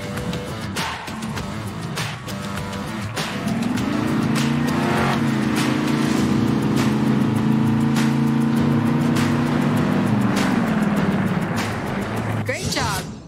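A monster truck engine in the 2019 game Monster Jam Steel Titans hums and revs with a steady rising and falling drone for several seconds, alongside a voice.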